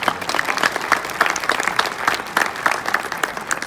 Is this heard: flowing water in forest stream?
no